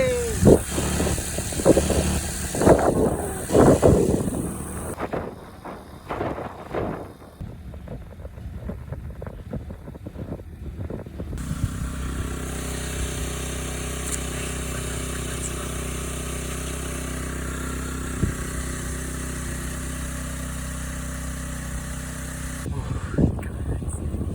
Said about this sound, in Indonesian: akhirnya motornya hidup lagi